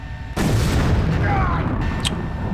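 A sudden loud boom bursts in and rumbles on as a sustained blast in the video game Deus Ex, with a brief high ping near the end.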